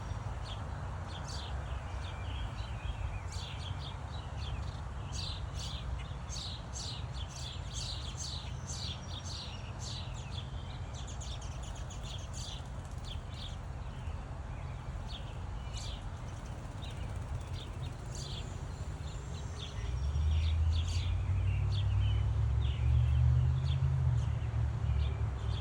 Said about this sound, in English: I have no idea what all these birds are.